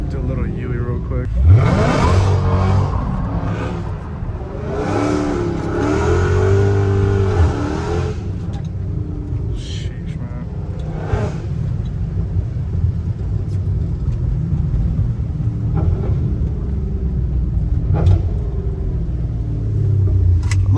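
An 850 hp Dodge Hellcat Redeye idles with a deep, loud, steady rumble in the rain, rising in one sharp rev near the start before settling back into a heavy, continuous drone.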